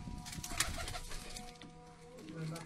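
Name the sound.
baby Lakha pigeon cooing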